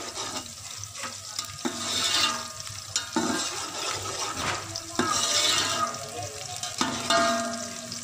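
Onions fry in a cup of ghee in a pan with loud, surging sizzle and scraping stirs that rise and fall in waves, close up and without talk.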